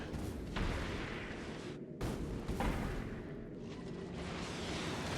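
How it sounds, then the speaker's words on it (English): Gun turrets firing at approaching rocks in Factorio, a dense continuous barrage of rapid shots with a couple of short breaks, heard at moderate distance over a constant low roar. "I love how close the rocks get before the gun turrets open up"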